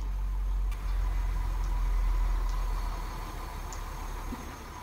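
Fire engine idling in the EmergeNYC firefighting game, a steady low engine rumble that continues throughout and slowly fades slightly, with faint clicks and no talking.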